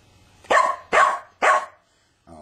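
A dog barks three times in quick succession, loud and close, each bark sharp with a short pause between, followed by silence and a faint trailing sound.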